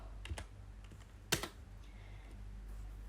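Computer keyboard keys tapped while writing CSS code, a few scattered clicks with one sharper burst of keystrokes near the middle, close and fairly quiet over a steady low room hum.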